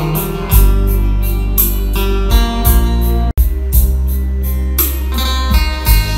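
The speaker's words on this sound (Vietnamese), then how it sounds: "đó là tiếng trầm của cái Sub B3 mã là 2020 bên em đang test" Deep, loud bass from a Chinese-made Sub B3 subwoofer speaker under test, pounding continuously with strong low thumps and a brief dropout midway, played alone without voices.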